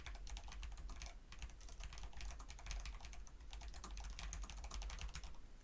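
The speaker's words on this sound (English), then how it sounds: "So I'm only typing as much as I can kind of fit within there" Keys on a computer keyboard clatter in a quick, steady run of soft taps, close and fairly quiet, with no voices over them.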